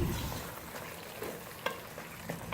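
Chicken and turnip being sautéed over a medium flame in a pan for a home-style curry, giving a steady close sizzle with light stirring scrapes and a few sharper clicks, no talking.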